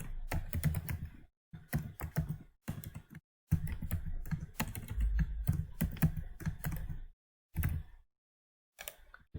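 Fingers type on a computer keyboard, quick bursts of key clicks broken by short pauses, close and clear with no talking.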